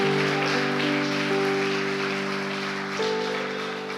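Church congregation applauding at an evening service, a dense steady patter of many hands clapping throughout, with sustained organ or keyboard tones ringing underneath.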